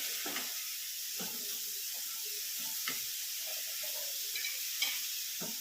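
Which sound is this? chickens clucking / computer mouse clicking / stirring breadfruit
stirring breadfruit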